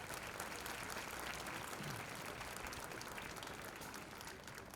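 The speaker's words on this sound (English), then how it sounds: "One last round of applause for all of our speakers" A graduation crowd at a high school ceremony gives a sustained round of applause for the speakers, a faint, distant wash of clapping in a large hall that holds steady and tapers slightly at the end.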